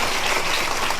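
Applause from an audience welcoming a speaker onto the stage at a talk, a steady, dense wash of clapping held at even loudness throughout without a break.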